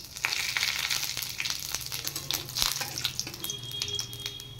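Bay leaf and whole cumin seeds dropped into hot oil after frying potatoes in a Bengali home kitchen, giving a soft, steady crackling sizzle with small pops and faint clinks of a utensil, fairly close and alone.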